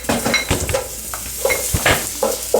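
Chopped onion dropped into hot oil, bursting into a loud close sizzle mixed with utensil clinks and scraping stirs against the pot, in irregular bursts.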